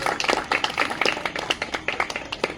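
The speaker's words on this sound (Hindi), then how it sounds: "जोरदार तालियों से" Audience applause after a stage play, sharp, dense hand claps filling the hall for a couple of seconds, close and lively without speech over them.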